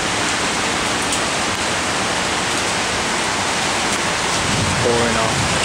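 Heavy rain pours down steadily in Toronto, a dense, even hiss filling the air close by, with a brief faint voice near the end.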